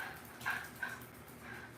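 A dog indoors barks at people outside the house, giving a couple of short, muffled barks at moderate distance.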